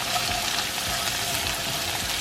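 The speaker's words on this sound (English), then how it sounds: "we're gonna saute it on a medium heat for about 5-7 minutes" Ginger sautéing over medium heat in a pan for chicken tikka masala, giving a steady soft hiss and sizzle at moderate volume with no talking.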